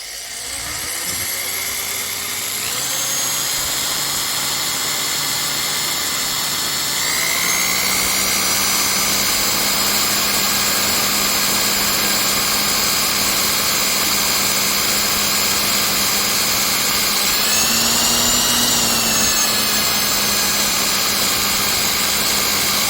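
Cowboy CB-4500 sewing machine winding a bobbin without sewing: a steady motor whine that rises in pitch in a few steps as it speeds up, loud and close, running alone with no voices.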